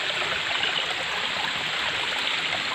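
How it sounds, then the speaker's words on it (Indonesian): A small river tributary flowing over rocks, a steady, dense wash of rushing water that stays constant throughout, close and fairly loud with no voices. "saya menyusuri sungai ini. Ini anakan sungainya."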